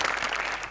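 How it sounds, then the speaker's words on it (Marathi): Audience at a Marathi comedy show bursts into brief, dense applause, a loud crowd clapping over less than a second without any voice. "त्यांच्यासाठी जोरदार टाळ्या"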